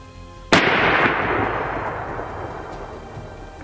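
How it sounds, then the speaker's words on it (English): A single sharp rifle shot aimed at a sable antelope cracks loudly outdoors, followed by a long rolling echo that slowly fades over several seconds. "One shot fired, one sable collected."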